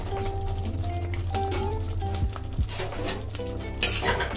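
Fried chicken pakoras tipped into a finished Desi Chinese chilli chicken gravy and stirred in a pan, with utensil clinks and scrapes against the metal over a low steady simmer, ending in a louder clatter.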